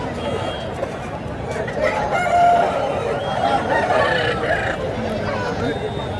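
Roosters crow at a country chicken market in Thimiram, Anakapalli district, their calls rising over a constant din of crowd chatter and other poultry.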